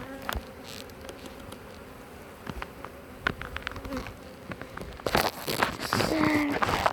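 Honeybees buzzing around a national hive being moved into an Omlet Beehaus, a steady faint hum with close passing buzzes, louder and busier toward the end amid handling noises.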